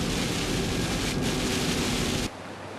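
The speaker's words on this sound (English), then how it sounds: "Instant rain." Steady, loud rain pours down on an autumn day in coastal Maine near Bar Harbor, a dense continuous hiss that cuts off sharply near the end, leaving a quieter background.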